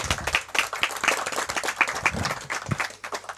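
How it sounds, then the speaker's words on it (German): An audience at a poetry slam claps and applauds, with an uneven patter of hands that is lively at first and thins out toward the end, with a few sharp whoops mixed in. "Applaus."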